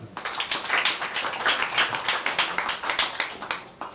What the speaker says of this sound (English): Can you please clap for yourself?